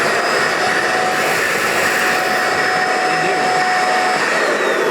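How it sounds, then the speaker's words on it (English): Vacuum cleaner suction motor running steadily, a loud, close, continuous high-pitched whine and rushing airflow with faint tonal hums, no talk, cutting off abruptly at the end. "Well, here's the suction motor."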